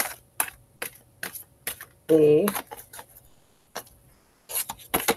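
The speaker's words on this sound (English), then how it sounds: "These cards are huge. They're kind of hard to shuffle." Large tarot cards are shuffled in a series of short, crisp riffling bursts at close range, separated by pauses, with a brief spoken word in the middle.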